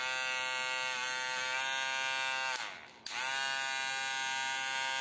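Upgraded Madeshow M10+ hair clipper motor running with a loud, steady high-pitched buzz, briefly dipping and changing pitch midway as the blade is loaded or shifted, then resuming its even hum.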